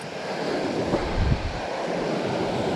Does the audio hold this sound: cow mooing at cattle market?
no